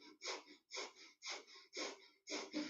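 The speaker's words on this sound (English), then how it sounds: "breathe in through the nose and out through the nose" A person breathes in and out through the nose during a breathwork exercise: six soft, even breaths in a steady rhythm, close and quiet, with no talking.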